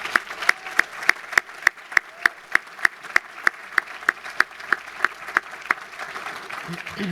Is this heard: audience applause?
yes